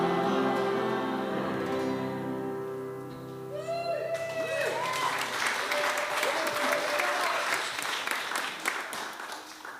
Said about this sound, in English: let's give a huge round of applause to all the UU United Writers